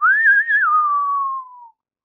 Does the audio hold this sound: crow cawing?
no